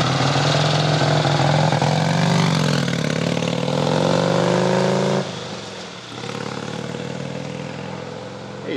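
A classic Triumph motorcycle rides by loud and close, its engine droning steadily at a constant pitch, then dropping away sharply as it passes and fading into a quieter idle-like rumble.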